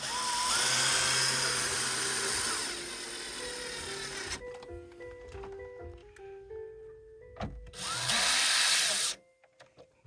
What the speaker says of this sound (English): Reattach the screw here.